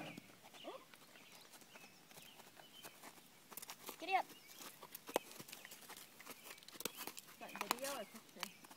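Faint, irregular clip-clop of a horse's hooves walking on the ground during a first bareback ride, soft and somewhat distant, with scattered quiet voices.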